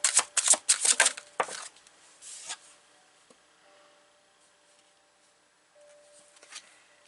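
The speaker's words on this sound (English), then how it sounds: "I'm going to take a card from the Morgan Tarot" A Morgan Tarot deck is shuffled close up in a burst of crisp, rapid riffling flicks for about two seconds, then a card slides out with a few soft taps and rustles before the room goes quiet.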